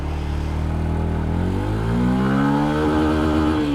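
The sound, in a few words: Yamaha FZ-S FI Hybrid motorcycle starting off in first gear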